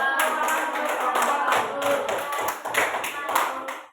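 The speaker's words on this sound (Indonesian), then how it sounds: "silakan tepuk tangan dulu" Classroom applause after a student group presentation on smart and non-smart machines: a close, brisk patter of many hands clapping for about four seconds, with voices mixed in.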